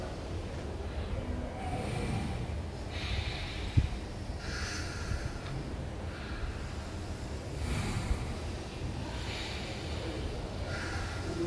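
Forceful pranayama breathing exercise: rhythmic, strong nasal exhalations repeating steadily about every second or two in a large space, with a faint hiss behind it and no talk.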